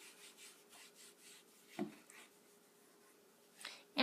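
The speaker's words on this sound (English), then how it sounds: "Erase your numeral" A written numeral is erased with soft, intermittent rubbing strokes, very faint and close, with a slightly firmer scrub near the middle and another near the end.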